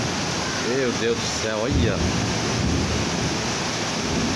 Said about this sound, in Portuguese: Tempestade!